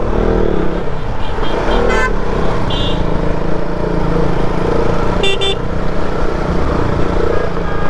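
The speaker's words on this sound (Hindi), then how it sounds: "भाई कसम से खतरनाक वाला ट्रैफिक" Heavy road traffic on a busy Indian street in the evening, with engines and motorcycles droning steadily close by and several short car horn toots cutting through around the middle and later.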